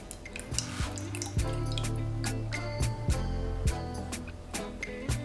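Raspberry lemonade mocktail, shaken with soda water, poured slowly into a chilled glass, with a steady liquid stream and scattered drips and clinks running continuously for several seconds, close and moderately loud.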